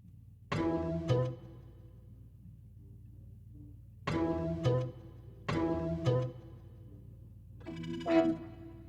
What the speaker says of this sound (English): It's like a loop, but it's only repeating the same note every time.